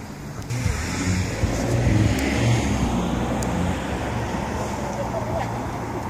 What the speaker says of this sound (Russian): Машины ездят рядышком.